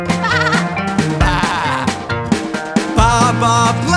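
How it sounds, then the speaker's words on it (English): Sheep bleating in a sustained, wavering run of calls, mostly alone, with a few other sounds mixed in over about four seconds. "Baa Baa Black Sheep, have you any wool?"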